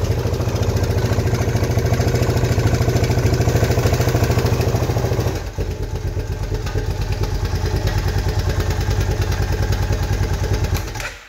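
A 2006 Honda TRX 500 Foreman Rubicon ATV engine idles close by after a valve adjustment, a loud, steady, rapid thumping putter with a slight shift in tone midway, with no talk.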